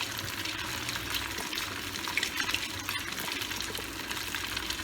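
Potatoes drop into a pot of boiling water in a home kitchen, with steady, soft bubbling and light churning close by, faint and continuous, with no talk.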